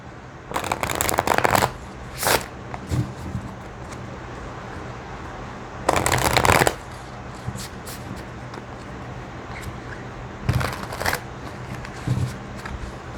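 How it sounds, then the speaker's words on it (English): Tarot cards are shuffled in bursts of crisp riffling, several separate shuffles spaced apart over a steady background hum, close to the microphone. "I'm just going to shuffle and then I'll take the top 3 cards"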